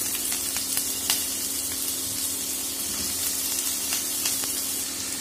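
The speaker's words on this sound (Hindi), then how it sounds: "अब मैं इसमें आलू डालूंगी।" Diced potatoes sizzle in hot oil with cumin seeds for an aloo tamatar sabzi. A steady, bright frying hiss carries on throughout, with scattered small pops and a faint stirring clatter, and no one speaks.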